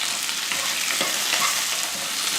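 Onions and small tomatoes sauté in a pan for a Diwali non-vegetarian feast, giving a steady close sizzle and crackle with light stirring taps, and nobody speaking.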